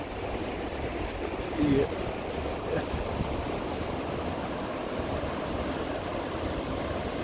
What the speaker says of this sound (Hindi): तो पूरी रात इस तरीके से नदी की आवाज़ आती रही।